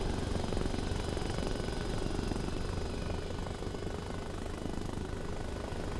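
A helicopter in the video game Arma Reforger climbs for altitude, its rotor and engine making a dense, steady, loud whir with rapid low chopping that holds constant throughout, no voices over it.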